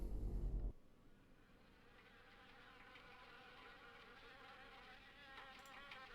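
A steady, close buzzing of wasps nesting in an old car in the video game Harvester drones on continuously, following a brief loud low rumble at the start.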